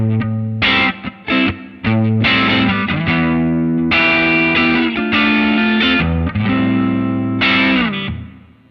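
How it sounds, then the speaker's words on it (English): An electric guitar plays through a Line 6 Helix preset with the amp drive turned up, giving an edge-of-breakup tone. Chords and riffs are played in short bursts with a few pauses, then a final chord rings and fades. "So you can get a really nice edge of breakup tone"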